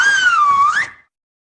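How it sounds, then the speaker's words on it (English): A single clear, loud whistle sounds close by, gliding slightly down and then up in pitch before stopping abruptly, followed by silence. It is a whistle used to summon a vampire bat. "The evil little man whistles for his vampire bat."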